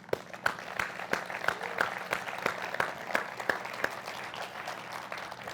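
An audience at a CLAAS XERION 12 Series and ARION 600 Series tractor launch event claps fairly quietly, with a few sharp individual claps standing out over a soft background of applause and murmuring.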